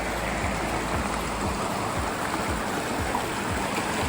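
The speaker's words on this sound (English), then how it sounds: "It's just a nameless little creek" A small nameless creek on a Glacier trail flows steadily, a close continuous rush and gurgle of water with no voices.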